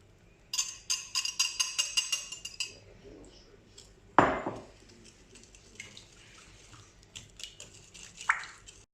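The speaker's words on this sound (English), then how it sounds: "we mix these together until nice and thick" Eggs, sugar and oil being mixed in a bowl for carrot cake buns: a run of rapid rhythmic clinks of a utensil against the bowl, then a louder clatter and scattered softer knocks and scrapes.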